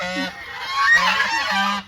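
Geese honk loudly and repeatedly at close range, a harsh overlapping chorus of nasal calls with no talking.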